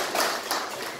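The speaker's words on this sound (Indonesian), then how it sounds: "Tepuk tangan buat kita semua." Brief burst of audience applause at an MGMP IPA science teachers' workshop in West Jakarta, a dense patter of many hands clapping at once, fairly close and steady, with no talking over it.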